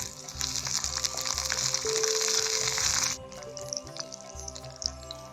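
Asafoetida, dried red chillies, garlic and curry leaves fry in hot oil, giving a steady close hiss and crackle that eases partway through, with faint stirring and popping.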